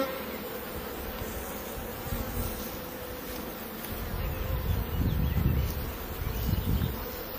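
Honey bees buzzing around an open beehive during an inspection, a dense continuous hum close by that swells louder in the middle, with faint rustling and no talk.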